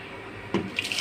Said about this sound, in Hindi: ये पानी जाएगा इसके अंदर इतना कि ये बॉयल हो जाए